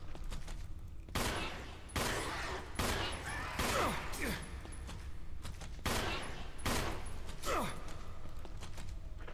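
Gunfire in the Resident Evil HD Remaster video game: a series of about eight sharp, evenly spaced shots with short reverberant tails, separated by brief quiet gaps, with no talking.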